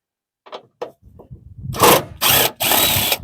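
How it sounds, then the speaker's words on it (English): An impact wrench on a G3 Pontiac Eclipse Spyder, removing a fender bolt: a few quiet clicks, then three loud, close bursts of whirring and rattling, the last two separated by a brief gap. "grab our impact and try and get it out without breaking anything"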